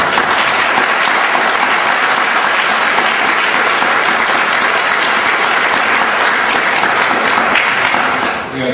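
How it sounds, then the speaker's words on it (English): A large audience applauds steadily for Tom, an inventor inducted into the Inventors Hall of Fame, at a biodesign thought leaders event in Singapore. The dense clapping holds evenly for about eight seconds before tapering. "big round of applause to Tom"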